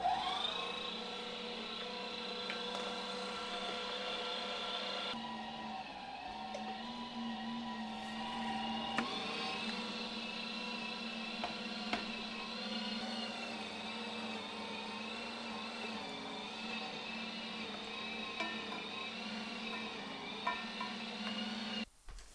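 An electric meat grinder runs steadily while grinding Italian sausage meat, a continuous motor whine and hum that shifts slightly in pitch partway through and carries on for over twenty seconds with no talk.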